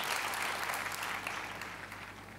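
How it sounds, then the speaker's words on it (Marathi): A studio audience on a Marathi comedy show applauds Bharat Ganeshpure, a dense, steady clapping that slowly fades, with no talk over it. "खरं भारत गणेशपुरे यांच्यासाठी टाळ्या झाल्या पाहिजेत"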